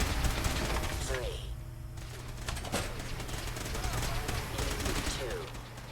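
Rapid video game gunfire crackles in dense bursts and rattling volleys, with game sounds and a voice speaking in the background.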